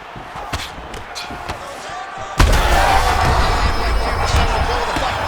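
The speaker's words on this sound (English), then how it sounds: "Great placement on that uppercut" A single heavy thud of an uppercut punch landing in the UFC 5 fighting game, one sharp loud impact followed by a sustained swell of arena crowd noise.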